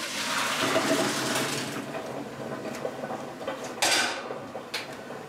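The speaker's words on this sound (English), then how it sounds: "I'm gonna just strain this really quickly." Cooked macaroni being strained in a kitchen: a steady rush of water pouring through a colander, with metallic clanks and clatters of the pot near the end, no voices.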